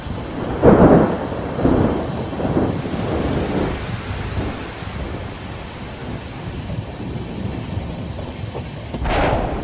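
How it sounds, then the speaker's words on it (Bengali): A thunderstorm in a cartoon rolls with several deep thunder rumbles over steady rain, the strongest crash early and another near the end, with no voices. "কিছুক্ষণ পর মেঘ কালো করে বৃষ্টি এলো।"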